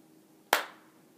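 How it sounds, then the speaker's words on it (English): A single sharp hand clap, close and crisp, from someone practicing the rhythm of the cup song, in an otherwise quiet room. "Clap twice."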